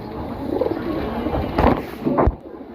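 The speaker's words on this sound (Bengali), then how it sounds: "আমাদের একশো পার্সেন্ট মাদি কবুতর এটা ঠিক আছে খুবই সুন্দর কবুতর" A female pigeon coos close by in a few low, throaty bursts over quiet background noise.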